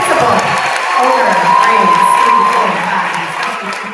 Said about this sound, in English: Can we give Mr. Lewis a round of applause